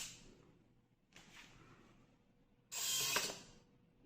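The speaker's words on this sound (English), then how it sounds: "now I am showing the actuation of motor." A small motor actuator on an IoT device whirs and ratchets in short mechanical bursts, faint at first, then a louder grinding burst near the end in an otherwise quiet room.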